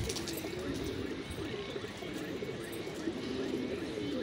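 Low, soft cooing from a banded pigeon repeats steadily over a dense, continuous background murmur.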